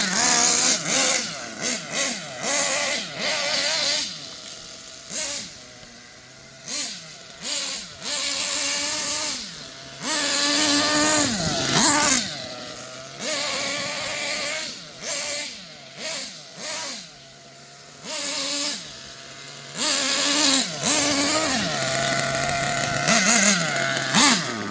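A Kyosho USA-1 RC monster truck's nitro engine buzzes loudly, revving up in repeated bursts and dropping back to a steady idle between them, close by with no voices.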